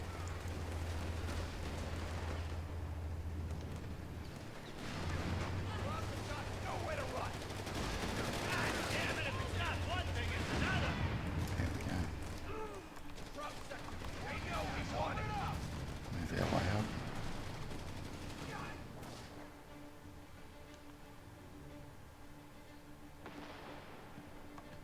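Gunfire and heavy weapon blasts from a tank battle in the strategy game Company of Heroes 3, repeated bursts of shots and booms over a low engine rumble, with a voice talking throughout.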